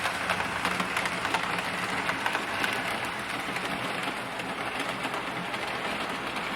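A DCC-controlled S gauge model train running around a track loop, a steady faint rolling rumble and rattle that continues evenly with no talk.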